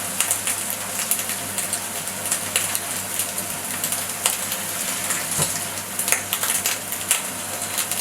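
Mushrooms sizzle and fry in a hot pan, a steady soft crackle with occasional small pops and clinks, no talking.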